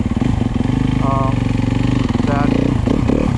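A 2015 Yamaha YZ 250FX dirt bike engine runs loud and close with a steady, throbbing mechanical rumble, while a person talks over it.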